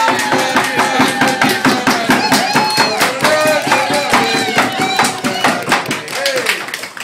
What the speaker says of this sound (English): So just clap your hands, stomp your feet, and scream.